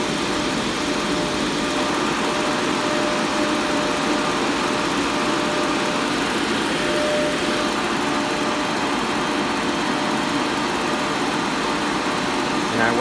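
An automotive AC refrigerant recovery machine purges itself using the single-hose method, giving a steady, loud mechanical hum and hiss that runs unbroken throughout.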